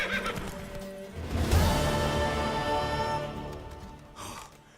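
A horse in The Witcher 3 lets out one long, loud whinny that rises sharply and trails off over several seconds, close up with faint hoofbeats beneath.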